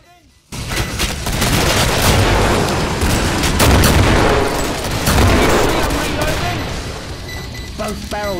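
Double-barrel shotgun blasts in the video game Killing Floor, loud and dense, packed among other gunfire and booms in a chaotic firefight with voices over the top, ending in a short quieter tail.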